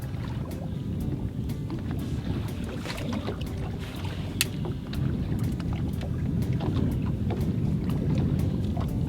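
A boat motors across water with a steady low drone, splashes and slaps against the hull, and wind buffeting the microphone throughout.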